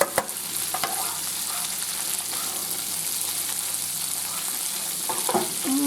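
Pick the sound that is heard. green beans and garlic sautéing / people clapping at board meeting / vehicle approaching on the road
green beans and garlic sautéing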